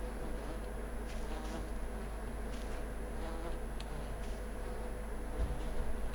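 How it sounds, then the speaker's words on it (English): Wasps buzzing in Voices of the Void, a low steady insect drone that seems to come from the ground, continuous and moderately loud for the whole stretch. "Are there wasps?"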